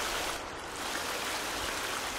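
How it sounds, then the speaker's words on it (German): A loud waterfall in the survival video game The Forest, a dense, constant roaring rush of falling water that fills the scene with no break and no voices. "Weil hier ein Wasserfall ist."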